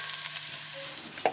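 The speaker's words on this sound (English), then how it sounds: "This onion fry and also in conversion their color white to brown" Onions frying in a pan, turning from white to brown, with a soft steady sizzle close up and a brief clink near the end.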